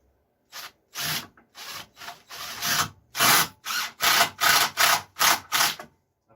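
Small number 6 deck screws driven into wood by a power driver in about ten short, sharp bursts, each a close buzzing whir with gaps between.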